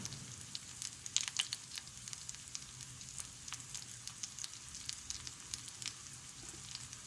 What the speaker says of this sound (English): Fry it on a medium-low flame.